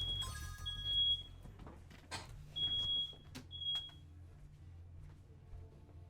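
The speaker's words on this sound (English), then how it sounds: "Oh, fire alarm going off." A smoke-style fire alarm in a house, set off while chicken sautés in a pan, sounds as a few sharp, high electronic beeps spaced a second or so apart, clear above a low steady hum and faint background clatter.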